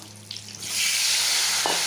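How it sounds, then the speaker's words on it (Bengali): Potatoes dropped into hot oil in a home kitchen pan: a quiet start, then a loud, steady frying sizzle swells up and holds as a dense, close hiss with a faint clatter near the end. "এখন এই তেলের মধ্যে আলুগুলো ভেজে নেব"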